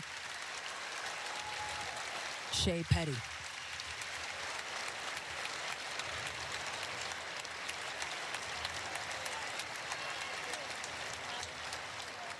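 Arena crowd at a Phoenix Mercury vs. Seattle Storm WNBA game applauds steadily as an injured Shey Peddy is stretchered out, a sustained far-off wash of clapping under a commentator's voice, with a brief louder burst early on.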